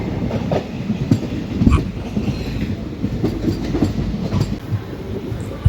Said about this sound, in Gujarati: આપણી બાજુમાંથી એક ટ્રેન જઈ રહી છે